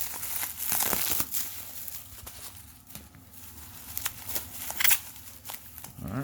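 Packing tape torn from its roll while wrapping Pokemon cards for grading submission, giving a few crinkly rips and crackles up close, with light handling noise between them.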